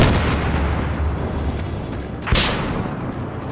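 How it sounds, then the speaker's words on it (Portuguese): A thrown grenade going off in the shooter game Battlefield Hardline during a night firefight in the woods, one sharp loud blast about two seconds in over a constant rumbling battle bed. "Granada lançada!"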